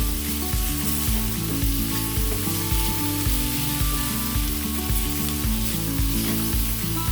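Masala with tomatoes and coriander frying in a pan for a drumstick-pod curry, with a dense, continuous sizzle under loud background music.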